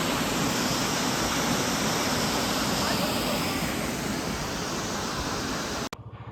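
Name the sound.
waterfall at Hickson Falls and Chutes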